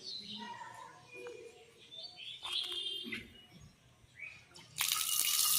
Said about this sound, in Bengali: যে এফএসটিসি কল দেওয়া হয়েছে, তো সেটা থেকে ঠিকমতো জল পড়ছে